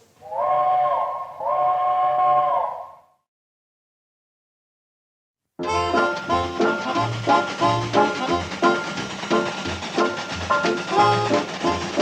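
Two long steam train whistle blasts sound out, then after a pause music starts playing loudly.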